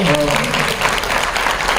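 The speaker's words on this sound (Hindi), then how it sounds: "तालियां कम पड़ रही है, एक बार बजा दो" Audience applause at a ghazal performance: steady, dense clapping from a crowd fills the space, with a sung or spoken voice briefly audible over it at the start.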